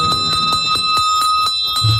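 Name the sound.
bell rung on radio show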